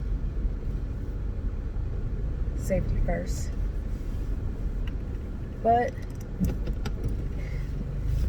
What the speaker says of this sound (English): Right now I'm in my car, as you can tell.